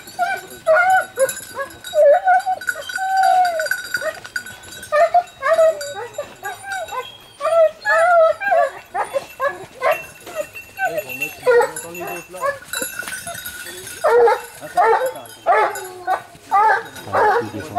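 A hunting dog pack at a pack trial in Corveissiat bays and yelps continuously at close range, many overlapping barks and whimpering cries in an irregular chorus.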